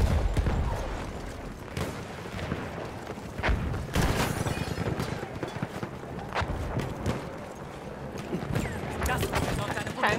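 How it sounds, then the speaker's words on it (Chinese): Tanks trade cannon fire in Battlefield 1 on the Amiens map, with repeated heavy booms and crashing impacts over continuous battlefield rumble while players talk. "坦克对坦克对轰中"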